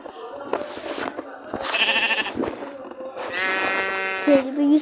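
Sheep in the Minecraft video game bleating in several drawn-out, wavering calls, loud and near, with a person's voice talking in between.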